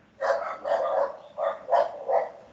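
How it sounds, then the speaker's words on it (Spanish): A dog barks in the background during an online class, five or so moderately faint barks in an uneven rhythm, with no talk over them. "¿Quién tiene tanto perrito por ahí?"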